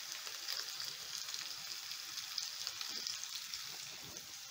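Potatoes fry in a pan with a steady, fairly quiet sizzle and crackle, dense bright hissing that stays even throughout, with no voices.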